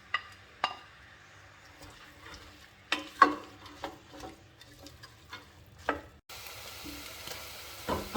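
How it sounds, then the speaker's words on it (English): Onions fry in vegetable oil in a pot, a faint, low sizzle broken by several sharp utensil knocks and stirring scrapes, with a brighter hiss rising near the end. "I have vegetable oil in the pot. I'll add the onions"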